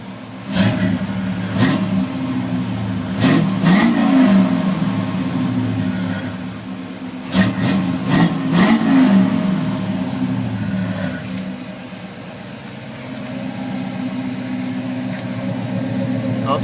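A Chevrolet C10 truck engine idles and revs up close, a few quick throttle blips rising and falling, with a faint alternator whine underneath.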